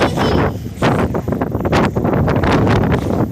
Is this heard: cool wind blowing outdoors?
yes